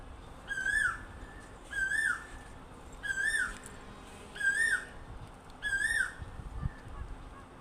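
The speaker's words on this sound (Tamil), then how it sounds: "குயில் கூவுது." An Asian koel, a cuckoo perched in a mango tree, gives five clear rising whistled calls at an even pace, each about a second apart, fairly close and alone over faint background hiss.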